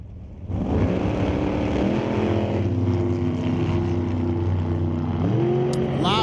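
Super Comp drag race cars launching and racing at an NHRA national event, a sudden loud engine roar kicks in and holds steady, climbing in pitch near the end as they charge toward the finish.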